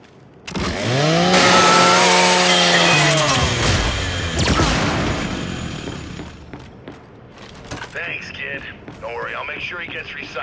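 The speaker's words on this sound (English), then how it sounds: "Just use your Lancer's chainsaw." A Lancer rifle's chainsaw bayonet revs and grinds loudly as it scraps a custodial robot in Gears 5, the harsh whine lasting several seconds before fading into clanking and scattered game effects.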